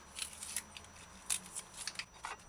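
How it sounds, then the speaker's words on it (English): A knife chops an onion finely on a cutting board, a run of faint, quick, uneven crisp cuts in close succession with no voices. "Dice onion fine."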